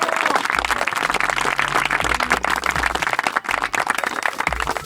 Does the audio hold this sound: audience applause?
yes